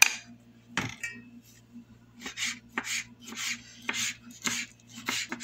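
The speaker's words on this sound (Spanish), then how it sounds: "Ahora vamos a proceder a picar." Onion and tomato being finely diced with a knife on a cutting board, a series of crisp, close chops in an uneven rhythm over a faint steady hum.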